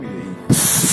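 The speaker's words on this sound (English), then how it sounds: "Now I want to spray it with electrical contact cleaner and see how it goes." A loud, close aerosol electrical contact cleaner spray bursts on halfway through onto a very hot solar dish focus plate, a steady broad hiss that continues to the end after a quieter lead-in.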